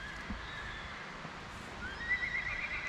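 Horses neighing to one another outdoors on an estate, a thin high whinny rising clearly near the end over a low steady background, no talk.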